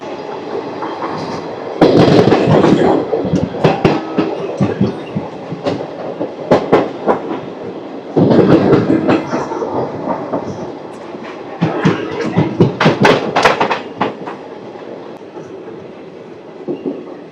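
The Rayagada–Guntur Express runs at speed, heard from on board as a loud, continuous rumble with repeated clickety-clack wheel beats on the rails that swell and fade in waves.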